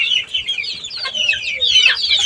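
Baby chicks kept under a warming light chirp continuously in high, overlapping peeps, with occasional clucks from chickens, loud and close throughout.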